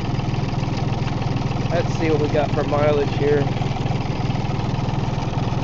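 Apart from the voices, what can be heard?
John Deere 870 tractor engine idling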